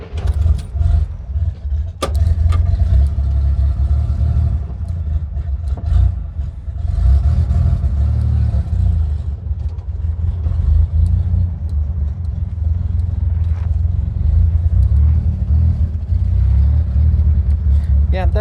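A 1964 Corvair Monza Spyder Turbo convertible, running rough, drives up a road with a steady loud low engine rumble and occasional clatter, with a person talking briefly.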